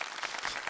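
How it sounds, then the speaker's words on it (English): A short, faint burst of audience clapping greets a guest's paintless dent repair hammer on a podcast, steady and even throughout. "And can we get some applause for that?"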